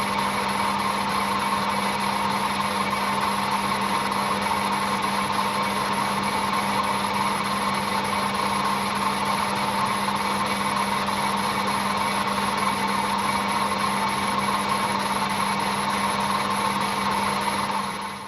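A lathe bores a hole in a metal gear part, giving a steady, continuous machine hum with a constant whine that holds evenly throughout, with no pauses or talk.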